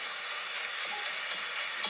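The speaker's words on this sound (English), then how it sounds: "mincemeat is frying and all." Mincemeat frying in a pan while a homemade lasagne is being prepared, giving a steady, close, bright sizzle with light stirring scrapes and no talking.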